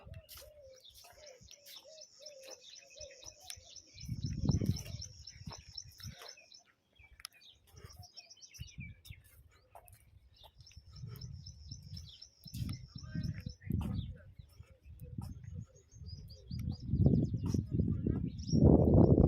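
Birds chirp and call at Al Ain Zoo in the UAE, with repeated thin twittering phrases at moderate distance and soft dove-like coos, while people talk intermittently nearby.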